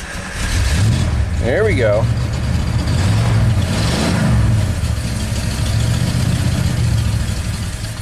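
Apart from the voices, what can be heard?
rebuilt Ford big block engine starting and running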